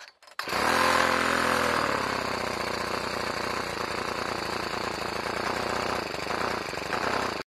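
Small engine catching after a cold start with the choke left on, firing up abruptly and then running steadily as a loud buzzing rattle that settles into an uneven idle before cutting off.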